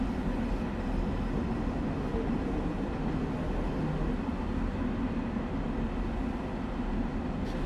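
An LIRR commuter train in Train Sim World 4 runs at speed, a steady low rumble and rolling wheel noise that stays constant and near throughout with no talking.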